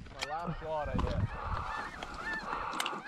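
Snow geese honk over and over at close range during a hunt, a dense overlapping flock chorus with a brief voice near the start.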